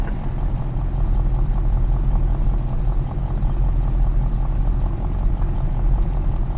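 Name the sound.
truck engine idling in video game Farming Simulator 22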